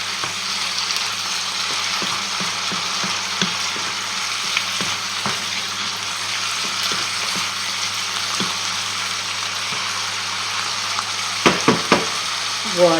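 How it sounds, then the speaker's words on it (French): Chicken blanquette with mushrooms cooks in a pan, giving a steady, even sizzle that continues throughout with small scattered pops and a few sharper clicks near the end, heard alone with no talking. "on va laisser cuire comme ça pendant environ 5 minutes"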